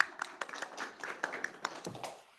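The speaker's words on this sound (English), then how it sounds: "So everyone, round of applause." Light, scattered applause from a small audience after a robotics research presentation, a handful of claps spread over two seconds, soft and a little distant.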